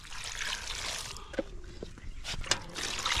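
Cut mutton pieces being rinsed in water, with faint trickling and sloshing, a few soft splashes and knocks against the bowl, close by and without talk.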